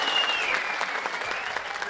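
A short burst of applause from a crowd, steady and fairly loud clapping throughout.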